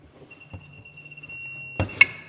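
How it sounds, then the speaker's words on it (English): A new beeping digital torque wrench gives a steady, thin high-pitched tone lasting over a second while fastening Wilwood disc brakes on a Bandit Trans Am, ending with a sharp metallic clank nearby. "I got this new beeping torque wrench"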